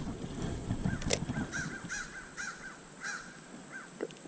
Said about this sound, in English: Got some crows.